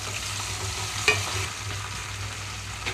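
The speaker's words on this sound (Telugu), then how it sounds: "ఇందులోకి అయితే కట్ చేసి పెట్టుకున్న టమాటా వేస్తున్నాను" Chopped tomatoes fry with green chilies in a pan, giving a steady close sizzle with a low hum beneath and one sharp utensil tap.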